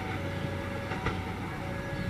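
The Argo Wilis passenger train, KA 6, rolls past in Indonesia with a steady, loud rumble of wheels on rails and a couple of sharper clacks, heard alone without talking.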